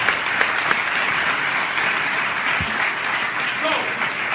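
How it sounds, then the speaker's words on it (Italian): Audience applause at a live network marketing event in Italy, steady and dense throughout, with a few voices and a brief whistle-like tone near the end. "Quindi adesso si merita davvero un applauso."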